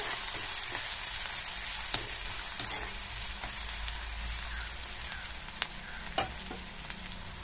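Small shallots frying in a pan: a steady, fairly quiet sizzle throughout, dotted with occasional sharp pops and clicks from stirring.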